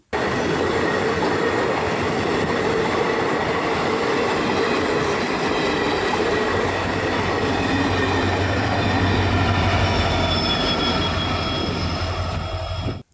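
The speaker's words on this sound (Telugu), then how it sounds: "ఇదే ట్రయల్ రన్ కోసం వచ్చినటువంటి రైలు" A trial-run train with two engines at the front and two at the rear rumbles past on the Podili–Kanigiri line, a loud steady roar of wheels and rails holding throughout, with a low engine drone building in the second half.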